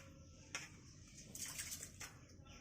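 Broken rice is washed by hand in water in a village kitchen, quiet sloshing and splashing with a couple of sharper splashes, close and fairly faint.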